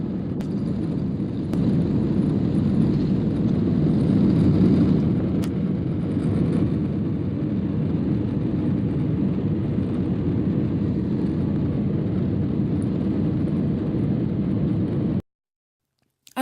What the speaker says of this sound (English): There's nothing more frightening than feeling that final thrust of the plane as it takes off.